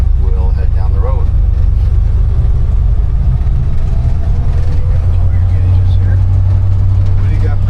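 A 1957 Dodge Power Wagon with an automatic transmission drives off down the road. Its loud, low engine rumble runs throughout, and voices talk over it.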